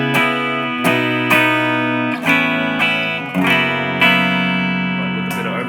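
Electric guitar chords strummed one after another with a slightly gritty, lightly overdriven tone from a Voodoo Lab Sparkle Drive pedal, each ringing out before the next, no voices.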